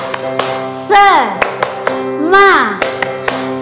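A group claps a short cheer rhythm during a church worship gathering. Sharp, evenly spaced claps ring out in quick bursts, mixed with loud chanted voices.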